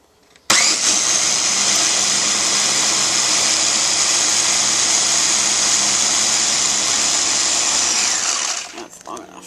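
A Ninja Master Prep Pro blender whirs loudly and steadily while blending a green drink, running continuously for about eight seconds before cutting off abruptly.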